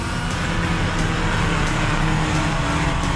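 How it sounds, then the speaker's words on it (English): A car revving hard and pulling away from a standing start at traffic lights with the clutch dumped, a loud, continuous engine roar that holds steady throughout with no voices. "give it full revs, dump the clutch, and away she goes."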